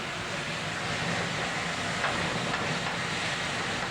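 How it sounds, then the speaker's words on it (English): Garlic and splashed white wine sizzle while sauteing in a pan, a steady dense hiss that stays even and loud throughout with no voices. "Hear that noise? That noise is everything when you're sauteing."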